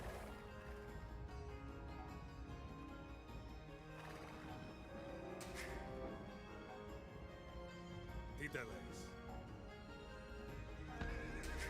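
Horses neigh and whinny repeatedly in the strategy game Chronicles: Alexander the Great, with several sharp calls breaking over a steady layer of game ambience, hoof clatter and battle noise.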